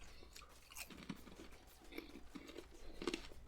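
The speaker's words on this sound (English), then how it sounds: "These are very crunchy chips." Someone chewing very crunchy chips close to the microphone, with quiet irregular crunches and bites scattered through a few seconds against a soft background.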